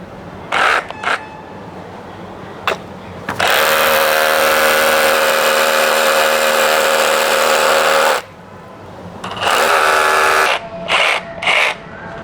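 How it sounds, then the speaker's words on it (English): A Bosch GBH 185Li cordless hammer drill bores into a concrete block in one loud, continuous hammering run of several seconds, with short starts and stops before and after it. "So let's drill in concrete and see how good it is."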